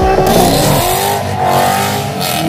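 A Honda car at a wild street car meet revs its engine hard and loud, the roaring note rising and falling close by.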